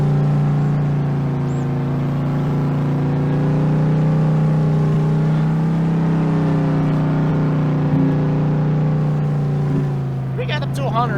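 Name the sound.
modded Ford car engine accelerating in video game Farming Simulator 22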